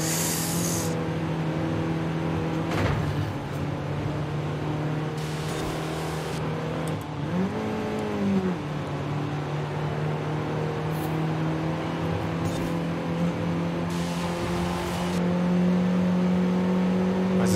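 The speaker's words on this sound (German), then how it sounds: "hier merkst du im Bergrennen, wie gut ein durchzugstarker Motor auch sein muss" A 1974 Honda Civic RS engine working hard up a steep hill-climb road, a sustained droning hum with a brief rise in pitch partway through, close and steady throughout, with no talking.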